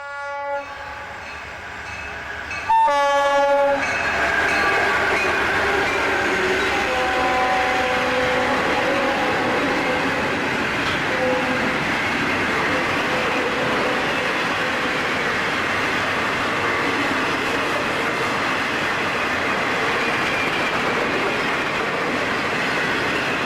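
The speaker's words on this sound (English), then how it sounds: "At 5:33 a.m., northbound hotshot number 222 rolls through Bunnell." A northbound FEC hotshot freight train rolls through Bunnell before dawn, its horn sounding in long tones before the steady rumble and clatter of passing cars and wheels take over for the rest of the stretch.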